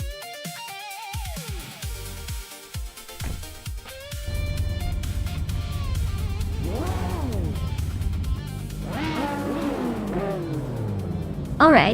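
Race cars roar and rev at Autodromo de Antioquia in a racing video game, with a Nissan and a 2010 Lamborghini in the field, engines rising in pitch through repeated gear-change sweeps over a steady loud drone, with an announcer voice heard at times.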